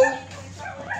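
A dog gives a short, close yip or whimpering bark outdoors, brief and tonal, with no talking over it.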